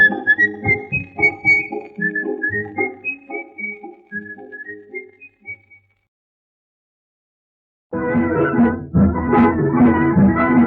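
Whistling from a Hindi film song: a sweet, lilting whistled melody alone for several seconds, then a pause before the full orchestral accompaniment swells in.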